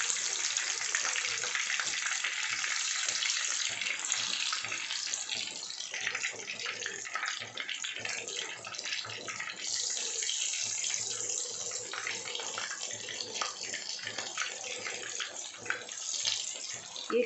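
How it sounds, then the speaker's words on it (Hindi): Fish fries in a pan over very low heat, giving a steady, even sizzle and hiss that runs unbroken throughout. "आंच एकदम धीमी आंच पे हमें इसे तलना है।"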